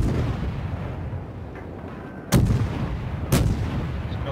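Two heavy warship main-gun salvos boom out about a second apart in World of Warships, fired at maximum range, each a sharp loud blast over a steady low rumble of the ship at sea.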